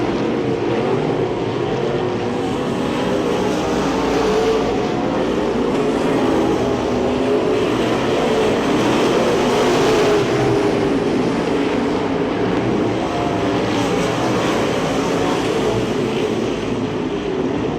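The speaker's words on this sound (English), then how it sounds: "Cars around up in 1 and 2." Race cars lapping a dirt speedway at the Speedzone during a late-race run, with a steady loud roar of engines droning continuously and swelling slightly as the pack passes through the turns.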